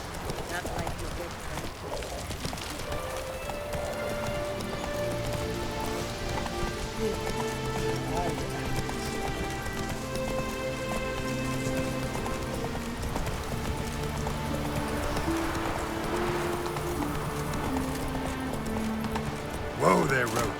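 Roach, a horse in The Witcher 3, gallops with steady rhythmic hoofbeats throughout, close and continuous under music and talking.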